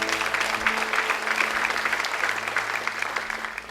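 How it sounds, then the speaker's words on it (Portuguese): A church congregation applauds steadily throughout a service, a dense, even wash of many hands clapping together with a faint hum underneath. "Dê um aplauso ao Senhor."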